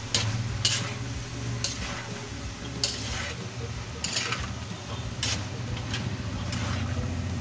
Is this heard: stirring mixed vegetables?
yes